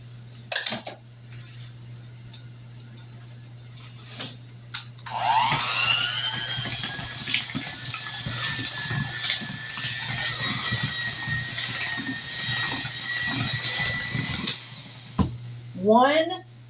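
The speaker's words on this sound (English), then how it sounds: "now we're going to mix in a half a cup of crushed" Electric mixer whirring into cake batter as crushed pineapple is folded in for a hummingbird cake, a bright rising whine that holds for about ten seconds between clicks and clatter, with a person talking around it.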